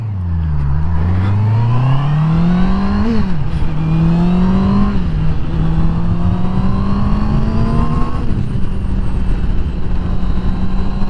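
A 2021 Honda CB650R inline-four motorcycle engine, loud and close, climbs through revs with rising pitch and short gear-change dips, then holds a steady high-revving drone.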